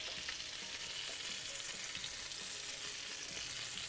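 Potatoes browning in a hot pan give off a continuous soft, even sizzle, quiet and close, with no voices.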